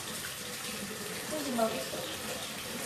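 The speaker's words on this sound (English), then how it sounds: "Can y'all still hear me okay with the water running?" Water runs from a tap into a sink as a steady, even hiss and splash, close and moderately loud. A faint voice briefly murmurs underneath.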